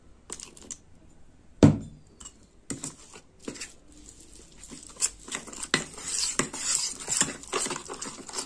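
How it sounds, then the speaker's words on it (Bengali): Ingredients being mixed by hand in a bowl as water is added a little at a time, giving scattered clinks, scrapes and wet stirring knocks. One sharp clatter stands out early, followed by busier, irregular clatter close by. "ভালো করে মিশিয়ে নেব। অল্প অল্প জল দেব।"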